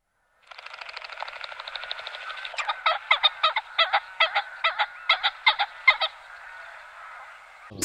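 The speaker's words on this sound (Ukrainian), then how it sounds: "Працівники Звірівського лісомисливського господарства випустили у вільний політ 80 фазанів" A flock of 80 hunting pheasants is being released from an aviary into a Volyn forest hunting estate. Repeated harsh, honking bird calls sound close, steady at first and then in distinct rhythmic bursts, with no talking.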